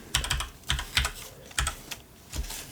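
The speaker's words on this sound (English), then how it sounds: "I'm going to type in =VLOOKUP" Keys on a computer keyboard are tapped to enter a VLOOKUP spreadsheet formula, giving close, crisp clicks in short irregular clusters with brief pauses between them and no voices.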